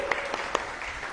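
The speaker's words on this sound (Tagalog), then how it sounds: "The best uling palakpak para kay Lord na mabuti." Congregation applauding during a Filipino church service, a brief wash of clapping with a few louder claps standing out and faint voices beneath.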